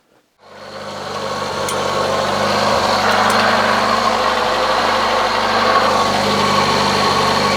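An old Citroën BX engine cranks and catches after a brief pause, then settles into a loud, steady idle with a low rumbling hum heard up close without talk.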